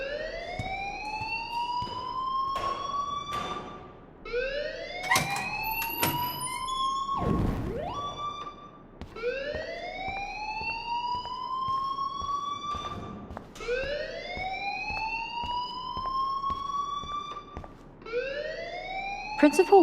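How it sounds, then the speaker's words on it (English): A school alarm in the video game Life Is Strange wails in loud, rising sweeps that repeat about every four seconds, with a few dull thuds between them. "please turn off that alarm since that's your job"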